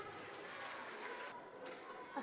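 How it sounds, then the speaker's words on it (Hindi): Audience applause at a Urdu high school annual function, greeting the young poet Hashim Firozabadi as he comes to the mic. Steady, dense clapping from a hall crowd with murmuring, fading slightly midway before a brief louder burst at the end. "इस छोटे से शायर के लिए जोरदार तालियां"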